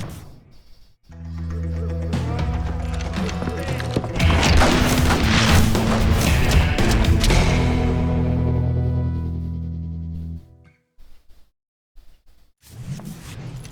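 A boulder crashes down in Call of Juarez Gunslinger as a long, swelling rumble that builds into a loud booming crash lasting several seconds, then fades away, with a few scattered thuds after.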